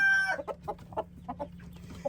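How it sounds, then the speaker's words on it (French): A golden, wheaten-brown crossbred Chantecler rooster clucks nervously inside an ecological henhouse, giving a quick series of short, close clucks over a steady low electrical hum, with no talking. "Alors, le coq est plus nerveux ici."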